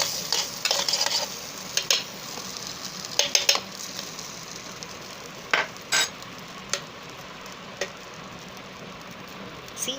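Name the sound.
stirring pasta with green chili in an electric kettle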